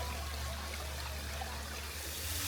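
A mountain stream of cold water flows near a waterfall, a steady close rushing and trickling wash that stays constant with no voices.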